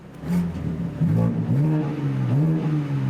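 A BMW M3 G80, set up for flex fuel and port injection, revs repeatedly with its exhaust valve open, each blip rising and falling in a loud, close rasp with no voices over it.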